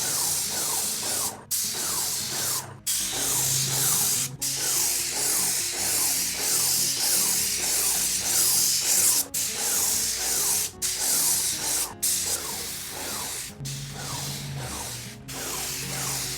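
A spray gun applying a first coat of paint during a laundry room makeover: loud, close hissing bursts of spray, repeated in long passes with brief gaps between them and no talking.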